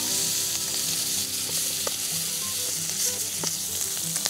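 Fatty bacon frying in a pan and being tossed around, a loud continuous sizzle and crackle with scraping and stirring sounds throughout.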